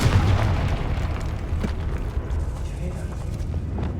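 A Confringo blasting curse explodes against a barricaded archway in Hogwarts Legacy, a loud booming burst up front that rumbles and decays over several seconds, with speech over it.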